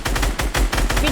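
Rapid, loud gunfire in a battle royale video game, with dense overlapping shots and bursts crowding the whole moment at close range. Voices are faintly audible underneath.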